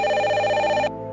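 A hotel telephone rings with a bright, steady electronic trill, loud and close, ending abruptly after about a second with a faint hum left behind.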